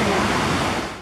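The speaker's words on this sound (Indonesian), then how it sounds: "Tempat di atas aliran sungai Ciliwung yang mengalir menuju ke ibu kota Jakarta" The Ciliwung river flows past in Bogor, a steady, close wash of moving water filling the short moment, with no clear voices.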